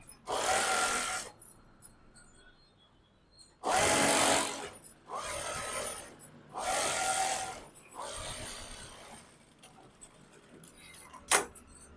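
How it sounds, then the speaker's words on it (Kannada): A sewing machine stitches an Anarkali dress seam in three short bursts, each roughly a second or so, close and fairly loud, separated by quiet pauses with faint handling noise. "ಈಗ ಇದನ್ನ ಈ ರೀತಿ ಫೋಲ್ಡ್ ಮಾಡಿ ಸುತ್ತ ಸ್ಟಿಚ್ ಹಾಕೊಳ್ಳಿ"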